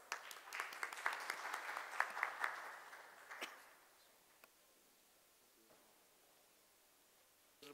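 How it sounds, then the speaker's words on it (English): An audience claps to welcome a speaker, a senior director of Tyco Electronics, at a corporate presentation. The applause is moderate and a little scattered, then thins out after about three seconds, and a few stray claps follow in near quiet. "Let's call him upon with a round of applause."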